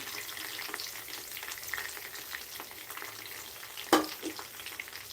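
Garlic cloves and dried red chillies frying in hot oil give a soft, steady crackling sizzle, quiet and close, with one sharp clink or stir partway through and no voices.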